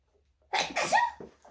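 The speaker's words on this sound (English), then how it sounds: "I'm going to sneeze." A single sharp sneeze bursts out after a quick breath in, fairly close and clear, with a faint breathy sound trailing afterward.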